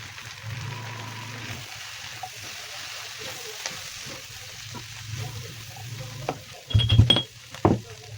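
Crushed garlic frying in a pan with a soft, steady sizzle while being stirred, then a few clinks and scrapes of a utensil against the pan near the end.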